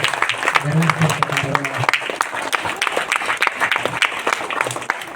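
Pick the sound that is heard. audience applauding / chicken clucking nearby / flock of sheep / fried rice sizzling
audience applauding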